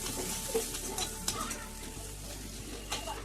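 Fresh peas and mixed vegetables cooking in a pan for veg pulao, a quiet, steady sizzle with a few soft spoon scrapes and clinks as they are stirred.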